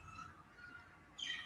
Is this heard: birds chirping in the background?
yes